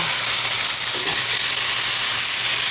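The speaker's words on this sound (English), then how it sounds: "while that's searing, you want to get your other ingredients ready" Loud, close sizzling of a pork chop searing in a frying pan for Cajun smothered pork chops, a dense continuous fry with no talking over it.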